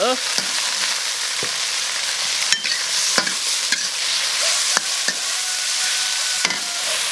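Eggplant sizzles loudly in a hot wok with ginger for a noodle sauce while a spatula stirs and scrapes, sharp clinks punctuating the steady frying hiss close up.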